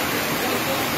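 Fast floodwater rushes at Hinaguan farm during heavy rain, a loud, dense and continuous roar of water and rainfall with no break across the short stretch.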